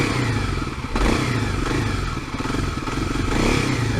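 Kawasaki KLX250S motorcycle engine running close by with a steady idle, small throttle swells, and a busy mechanical clatter and ticking throughout, no talking.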